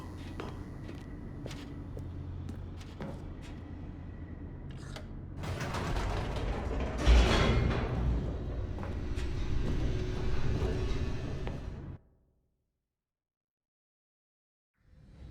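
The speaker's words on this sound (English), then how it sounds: "The elevator raced downward, plummeting towards an unknown fate." An elevator descends in The Stanley Parable with steady mechanical rumbling and creaking gears. It grows louder and harsher midway, with a sharp clunk, then cuts off abruptly into silence.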